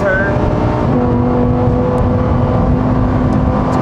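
A Lamborghini Huracán STO roars steadily on a bumpy race track while entering the last turn, its engine note held loud and close with faint wind rush beneath.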